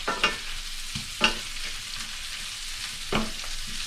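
Shrimp scampi with shirataki noodles being stirred in a hot pan, a quiet sizzle beneath three or four brief scraping and clattering strokes of the utensil.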